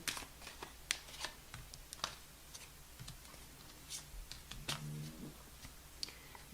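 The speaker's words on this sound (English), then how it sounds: "One more shuffle." A deck of tarot cards is shuffled close by, giving a run of quick papery riffles and soft taps spread irregularly across a quiet room, with no talk.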